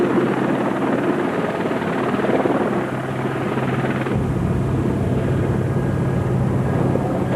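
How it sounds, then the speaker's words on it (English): A helicopter flies over the Sahara desert near Tichit, its rotor and engine roar loud, steady and close the whole way, a constant low drone with no talking. "let's take a helicopter ride and find out exactly what it's like"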